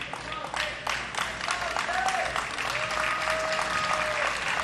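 Crowd applause at the 2004 US Open racquetball quarterfinals in Memphis, a sustained burst of clapping in the arena with a commentator speaking over it.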